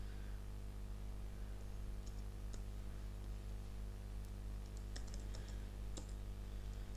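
Steady quiet clicking of keys on a computer keyboard, scattered light taps over a constant low hum and background hiss.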